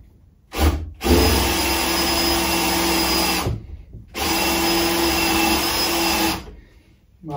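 A power drill drills out a screw, whirring loudly in two long bursts of about three seconds each, starting and stopping abruptly, with a steady high-pitched whine throughout.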